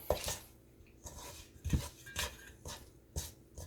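Biscuit dough being stirred by hand in a bowl as flour is added, a series of soft scraping knocks and clinks of spoon against bowl, close and irregular, with no talking.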